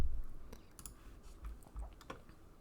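Computer keyboard typing, a few quiet scattered key clicks in a soft, close, irregular pattern with no voices.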